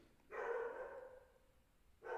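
A small dog barks outdoors in the street, a couple of fairly faint barks heard at a distance with a pause between them, under quiet room tone and with no one talking.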